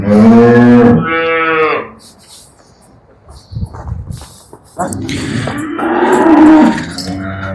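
A cow moos loudly and close by, twice, with a long low call at the start and another drawn-out moo after a quieter pause.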